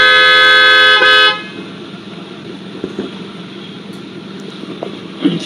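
Steady, loud car horn blast lasting about a second, then it cuts off, leaving faint street background with a few small knocks.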